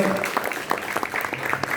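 Applause from an audience at a press meet in Paris for a music director, a brief burst of scattered, moderately loud clapping with a faint voice underneath.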